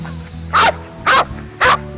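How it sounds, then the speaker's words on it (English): Three sharp, loud barks from a dog, evenly spaced about half a second apart and close by, over a low background hum. "He is barking at other dogs."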